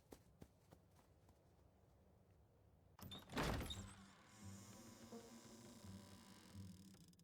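A door in a video game, reached after a mad dash, bursts open with one loud slam midway, preceded by faint ticking steps and followed by a lingering rumble.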